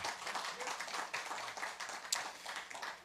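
Brief applause from a music festival lineup announcement audience, scattered clapping at moderate distance with a few sharper individual claps, fairly faint and without a clear rise or fall.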